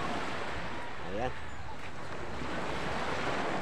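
Ocean waves on a beach shore wash in as a steady, soft broadband rush mixed with wind noise on the microphone, with a brief voice sound in the middle.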